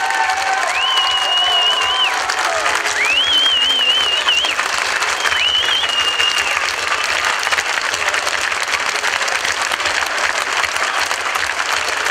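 A crowd at a political rally for the PTB gives steelworkers a thunderous, sustained round of applause, dense clapping throughout with several shrill whistles rising above it in the first seconds.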